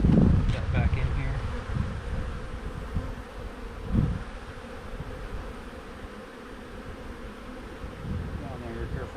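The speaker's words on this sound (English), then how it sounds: "careful not to squish any bees on the sides" Honey bees buzz around an open hive during a spring inspection, a dense, continuous hum close by with occasional louder individual passes, while handling noises and faint, indistinct speech come through underneath.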